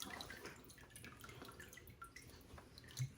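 Water drips and trickles from recycled shredded-paper pulp held in a handmade papermaking mould, a soft steady patter of small drops with no voices present.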